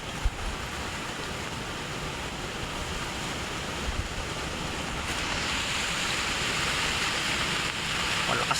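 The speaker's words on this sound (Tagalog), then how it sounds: "Malakas pa rin yung hangin." Strong typhoon wind sweeping through a mangrove area by a flatboat, a loud continuous roar mixed with surf-like water noise that swells slightly louder toward the end, with no talking.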